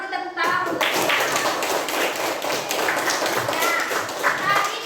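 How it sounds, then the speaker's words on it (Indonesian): Young students in a classroom clap together for a classmate, a lively burst of rapid, uneven claps that keeps going for several seconds with some voices in the background. "tepuk tangan untuk dia."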